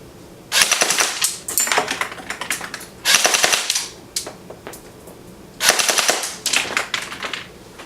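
A Cybergun M14 Socom electric airsoft rifle with its stock 8.4 volt battery fires full-auto at about 10 rounds per second, in four loud close bursts of rapid clattering shots separated by short pauses.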